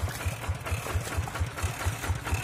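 A rotary tiller tractor's engine runs steadily, a rapid regular thumping chug with a mechanical clatter on top, close and fairly loud with no talk.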